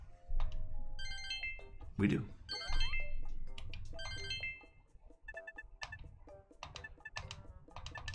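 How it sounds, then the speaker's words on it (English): A telephone rings in the farming game Harvest Moon: One World, with bright repeated electronic chimes over a low background and brief speech. "And we wake up with a phone call."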